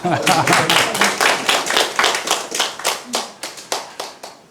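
An audience at a hepatitis patients' association lecture claps together in a quick, even rhythm, crisp distinct claps close by that thin out and slow toward the end.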